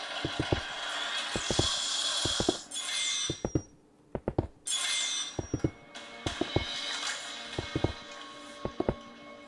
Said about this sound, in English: The officers have no choice but to drill a hole through the metal